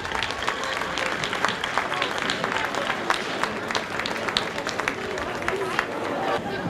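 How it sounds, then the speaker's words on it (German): A crowd at a horse race applauds the winning jockey and horse with lively, continuous clapping and a few sharp claps standing out, mixed with murmuring spectators. "Und ich bitte Sie nochmal um einen ganz großen Applaus für den Edgar Labes und Paracla."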